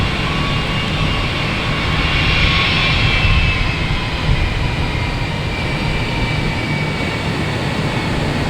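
Airbus A220 airliner operated by JetBlue, arriving from Savannah at Boston Logan Airport, producing a steady, loud, broadband engine roar with a high whine that holds throughout without a break.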